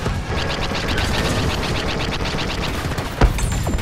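Space battle weapon fire effects, rapid repeated laser-like blasts in a quick steady rhythm, loud and dense, with a heavier impact boom near the end.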